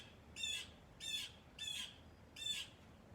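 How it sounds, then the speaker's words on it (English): Blackbirds flying over a house give four harsh, evenly spaced squawking calls, faint and a little distant, against quiet outdoor background. "Those blackbirds keep flying over the house."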